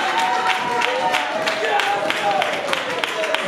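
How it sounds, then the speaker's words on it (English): A crowd at a Kentucky soccer award ceremony applauds an award recipient, with steady, dense clapping mixed with cheering and voices from the audience throughout. "please clap for him"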